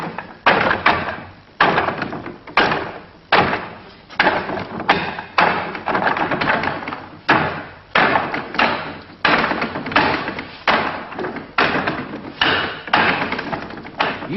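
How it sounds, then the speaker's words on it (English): Rapid strikes of palms, arms and elbows on a Wing Chun wooden dummy, a steady run of sharp, loud wooden thuds and knocks, close up, with brief pauses between flurries. "Using the dummy man allows all the techniques to be used strongly."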